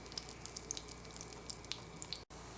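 Steady hissing sizzle of fries and hush puppies frying in a deep fryer's hot oil, with scattered crackles and pops throughout, fairly quiet and continuous, cutting out briefly near the end.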